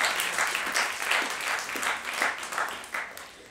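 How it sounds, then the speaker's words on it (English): An audience at a student union presidential question-time event claps steadily, a dense, moderately distant patter of many hands sustained for several seconds without any voices over it. "Okay, so let's get a round of applause for that."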